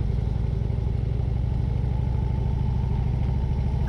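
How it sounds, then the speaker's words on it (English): A motorcycle carrying a rider and a child passenger, with a steady pulsing engine drone and wind noise, close and continuous with no talking. "Taking my daughter for a ride on the bike."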